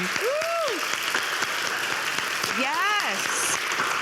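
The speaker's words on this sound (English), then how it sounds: "I know we clap a lot, but that's called energy" Audience clapping during a talk show episode, a steady patter of hands running throughout, while a voice rises and falls in exclamations over it.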